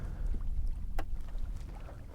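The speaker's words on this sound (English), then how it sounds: "I can just hear it lapping at the back of the boat." Water laps at the back of a boat on a Louisiana river during a strong falling tide, soft low sloshing close by with light wind buffeting and an occasional sharper splash.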